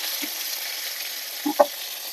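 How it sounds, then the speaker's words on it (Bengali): Tomato frying in a pan with cardamom and cinnamon, a steady, moderately loud sizzle with a couple of brief utensil knocks near the end. "দিয়ে দেবো টমেটো, ভালো করে টমেটোটা ভেজে নেব।"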